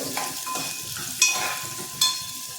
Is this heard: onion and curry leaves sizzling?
yes